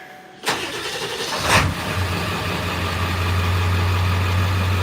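A car engine cranks briefly after the key is turned, catches within about a second and settles into a steady, even idle, heard close and fairly loud with no talking.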